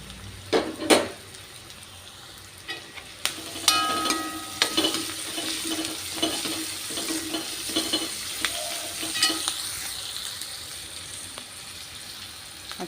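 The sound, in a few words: slit green chillies sizzling while sautéed in a pan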